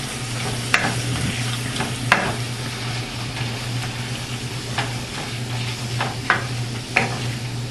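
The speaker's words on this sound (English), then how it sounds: "as soon as our meat browns up a little bit more" Ground beef browning in olive oil in a pan, a steady close sizzle with occasional spatula scrapes and taps, no one speaking.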